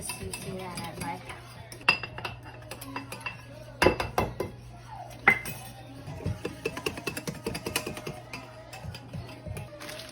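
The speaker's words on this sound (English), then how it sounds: "I got the fresh raspberry juice that I'm using, and I'm whisking in powdered sugar" A whisk clinks and scrapes against a bowl while powdered sugar is beaten into fresh raspberry juice for a donut glaze, with irregular taps and sharper knocks over a low steady hum.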